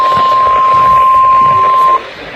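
A weekly test of an EAS weather radio alert comes from a receiver tuned to WWG57 for the Central Highlands of Ohio. A loud, steady single-pitch tone holds for about two seconds, then cuts off into quieter static.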